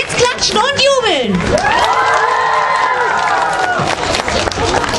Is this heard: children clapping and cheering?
yes